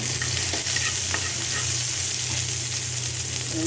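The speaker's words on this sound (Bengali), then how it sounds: "এই যে পেঁয়াজ দিয়ে দিচ্ছে লাউটা বাগারের জন্য।" Onions hitting hot oil for tempering a bottle gourd curry, a close, continuous crackling sizzle with light stirring scrapes, steady and loud throughout with no voices.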